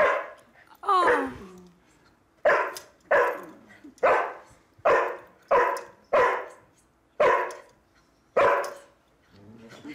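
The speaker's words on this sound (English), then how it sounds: "the dog will bark for help and keep barking for help until we've told him to stop" A service dog barks on command, giving about eight loud, close barks in a steady, repeated rhythm after a short whimpering sound at the start.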